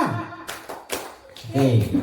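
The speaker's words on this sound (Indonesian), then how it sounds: "Oke, kita tes dulu Bapak dan Ibu. Tepuk tangan 2." A group claps in two brief sharp bursts, close by, with a voice speaking before and after.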